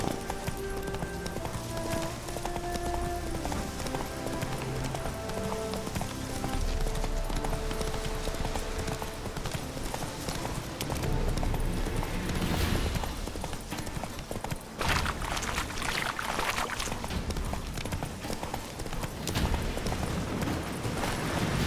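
A horse gallops in the video game The Witcher 3, with a fast, steady rhythm of hoofbeats clip-clopping throughout, under a layer of game music and ambience.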